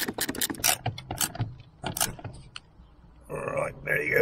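Ratchet with a deep reach socket and extension tightens a bolt on a Ford Transit Mk7, giving short bursts of close clicking mechanism noise alongside someone talking.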